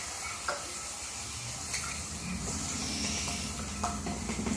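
Two slices of lunch meat fry in butter in a pan, hissing and sizzling steadily, with occasional soft scrapes and pops and no speech.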